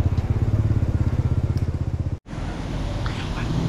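An old motorcycle idles close by with a steady low, lumpy thrum, cutting out briefly midway and then resuming at a smoother, quieter run.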